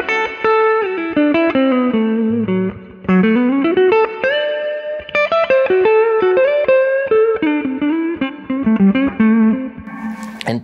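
Electric guitar played through an amp or effects unit with distortion, a tube-amp style tone; a continuous run of sustained, overdriven notes and chords, loud and close, with no talking.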